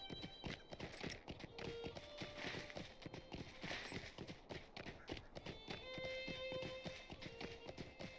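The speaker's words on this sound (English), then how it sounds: "Some horses." Horses' hooves clip-clopping in Lord of the Rings Online, a steady rapid rhythm of hoofbeats at a low level with a faint whinny and quiet game background.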